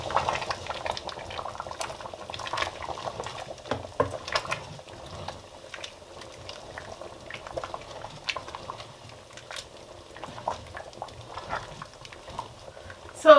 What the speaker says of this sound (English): Now I'm going to cover and I'll allow this to simmer for a few seconds